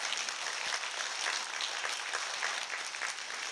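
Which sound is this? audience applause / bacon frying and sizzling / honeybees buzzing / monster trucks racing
audience applause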